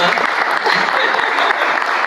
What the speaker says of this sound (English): Let's give a round of applause for Project Sun and the pizza